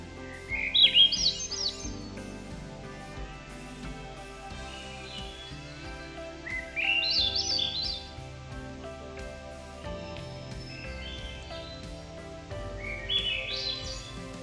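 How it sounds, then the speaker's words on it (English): A thrush in the Maine woods sings several separate echoey, fluty phrases a few seconds apart, fairly clear over a quiet musical backing, with no voices. "thrushes especially have that echoey kind of fluty sound to them"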